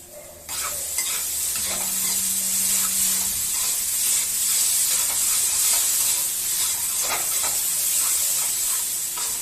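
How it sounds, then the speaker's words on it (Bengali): Spices and chili powder sautéing in a hot pan for a prawn dish, giving a loud, steady close-up sizzle and hiss with scraping stirring strokes throughout, no voices. "এটা ভালোভাবে সাঁতলে নেবো"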